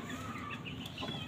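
An Aseel hen clucks steadily nearby, with soft repeated clucks over farmyard background noise and no talking.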